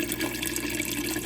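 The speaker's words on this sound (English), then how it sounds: "There comes the water." Water pours steadily from an auto top-off pump into a reef aquarium, a continuous close trickling and splashing with no voices over it.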